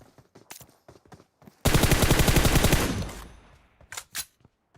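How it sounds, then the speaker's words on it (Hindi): A rapid burst of automatic gunfire rattles out in a video game shootout, roughly a second and a half of close, loud shots, framed by scattered footsteps and small clicks. "वो बंदा सामने खड़ा होके गोली चला रहा है"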